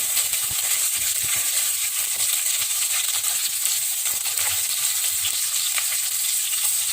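Cut green chillies frying in a pan with cumin seeds, a loud, continuous, bright sizzle and hiss that holds steady throughout with no talking.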